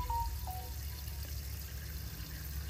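Water flows steadily into a horse drinking tank during a test run, making a faint, even trickle and pour. A couple of brief high tones sound near the start.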